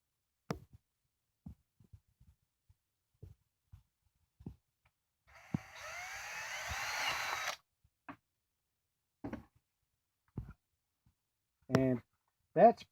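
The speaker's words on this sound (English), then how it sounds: "At this point, we're just going to go ahead and drill a hole." A twist drill bit bores a hole through a Kydex holster in a steady, whirring burst of about two seconds, with scattered handling clicks and knocks and spoken talk before and after.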